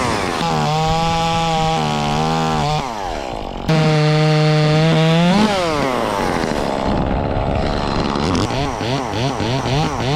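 A chainsaw works through a large dead tree during removal, its engine loud and close, revving and bogging in long sustained pitches that dip and climb as the cut progresses, with no break.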